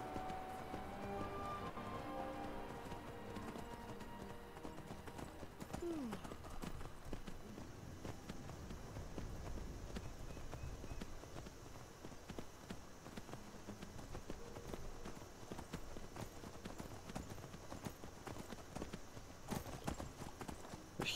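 Video game sound from Skyrim's Falskaar mod: steady clip-clop of hooves at a brisk pace, continuous and fairly close, with a light patter like rain underneath.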